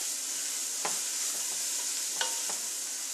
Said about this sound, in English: Give that a quick stir and let it saute for about 2 minutes.